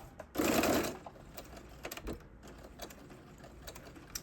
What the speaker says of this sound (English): So from the bottom edge, you're going to stitch up 1/4 of an inch.